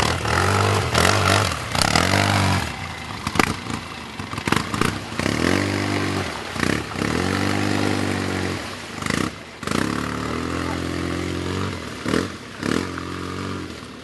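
Polaris off-road vehicle bogged in a muddy forest track, its engine revving hard in repeated surges and drops as it strains to move, loud and close with scraping and clatter between bursts.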